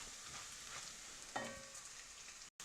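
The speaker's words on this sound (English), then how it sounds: "we're going to get our leeks sauteing with the bacon and the bacon fat" Wild leeks sautéing in bacon fat and bacon: a quiet, steady sizzle with a single clink of a utensil partway through, soft and close, no voices.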